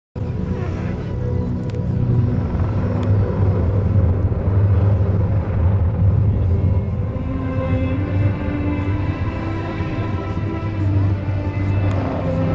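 A Eurocopter Tigre attack helicopter at the 2009 Le Bourget air show, heard as a loud, steady, rumbling engine and rotor drone with a humming tone that continues throughout.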